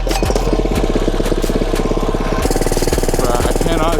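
A cheap Amazon mini bike's small engine runs close by with a buzzing, rapidly pulsing rattle, revving loud and steady with a few metallic clinks, and no clear voices.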